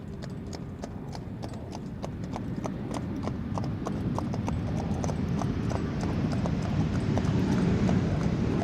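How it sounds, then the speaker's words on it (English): Hooves clip-clop steadily from two horses pulling carriages, the rhythmic clatter growing slightly louder and closer over a rumbling street background near Amsterdam Schiphol Airport. "If you're thinking I'm hearing horses, that is absolutely right. 2 horses and carriages."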